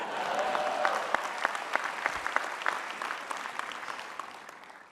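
Audience applause at a 2019 college commencement ceremony, sharp individual claps popping out of a broad crowd wash that gradually fades toward the end.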